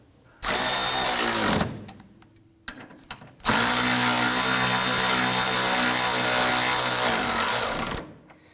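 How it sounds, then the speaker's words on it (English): A power tool driving in a bolt on a 2008-2011 Ford Focus rear lower control arm whirs in two bursts, a short one then a longer sustained run of several seconds, loud and close, with a brief pause between. "we're just going to switch over to the power tool to go ahead and zip that in"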